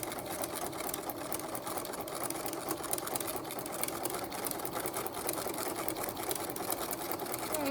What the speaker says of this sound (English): you're in control of the speed of the sewing machine